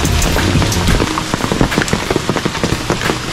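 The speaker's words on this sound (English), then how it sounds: "it has been raining like this since we arrived yesterday." Steady rain falls on surfaces at a riverside spot in Quezon Province, a dense continuous patter with sharp individual drop hits scattered throughout, fairly close and loud, with no voices.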